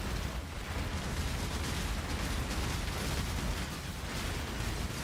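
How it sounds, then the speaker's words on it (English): Bombs explode deep in a mine in the video game Path of Exile during a Delve run, a dense rumbling wash of blasts and crackling bursts that fills the whole stretch steadily with no talking. "Oh geez, explosions."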